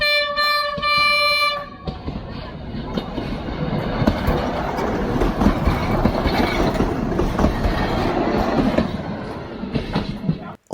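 A train passing on a single track in rural Cambodia, a loud, close rumble of wheels and rattling cars that runs steadily for about nine seconds after a brief horn-like tone, then cuts off.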